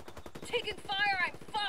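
Rapid automatic gunfire pounds through a Call of Duty-style shooter in quick, steady bursts, with chattering in-game voice effects layered over the shots.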